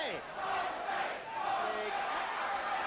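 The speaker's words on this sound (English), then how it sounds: "Crowd taking up a chant of Jose." A boxing arena crowd chants a fighter's name during a Mike Tyson bout in the 9th round, a broad roar of many voices with rhythmic swells rising and falling throughout.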